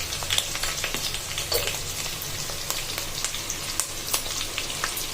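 Onion paste with salt frying in a pan for hilsa fish curry crackles and sizzles continuously, with close, sharp pops scattered over a steady hiss and no voices.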